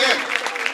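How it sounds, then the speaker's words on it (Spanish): A short burst of dense clapping applause for children at a sing-along, steady and close, with a voice heard faintly in the mix. "Un aplauso para los chicos que lo están haciendo muy bien."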